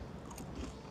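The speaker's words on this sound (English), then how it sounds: "it has a really nice, light, toasty crunch to it when you first bite into it" Biting into crunchy fried bangus milkfish at a Filipino restaurant in Las Vegas gives a single crisp crunch followed by a brief muffled chew, close up against a busy room murmur.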